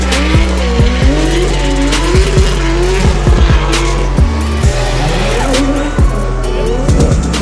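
A Nissan R35 GTR drift car at a D1NZ round at Baypark, with tires squealing in repeated sharp bursts over a loud, steady engine roar from nearby.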